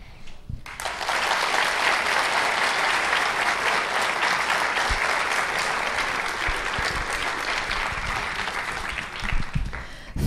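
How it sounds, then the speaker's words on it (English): An audience at a junior royalty coronation during a raspberry festival breaks into sustained applause, dense clapping that rises quickly, holds steady for about nine seconds and tapers near the end. "Crowd, let's give them another round of applause."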